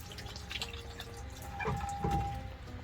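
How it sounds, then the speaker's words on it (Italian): The Irache fountain on the Camino between Estella and Los Arcos, spouting wine and water, trickling and dripping steadily into a basin with a faint tone and a low outdoor background hum. "unica fontana al mondo che oltre acqua sgorga anche vino, qui a Iraque"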